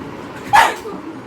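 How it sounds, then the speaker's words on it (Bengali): A single sharp dog bark, close and loud, over low background noise. "ওই দেখো ডগু কি বলছে ডগু কি বলছে"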